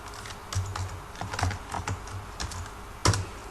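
Uneven taps on a computer keyboard, with scattered clicks and a firmer, louder keypress near the end like Enter being struck, close and clear without speech.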